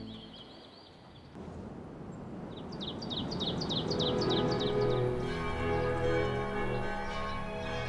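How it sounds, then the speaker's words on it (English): A bell rings out at four in the afternoon, a series of bright repeated strikes rising over a wash of outdoor ambience with birds chirping in the background. "As the bell sounded at 4 o'clock in the afternoon, time temporarily stopped for tea."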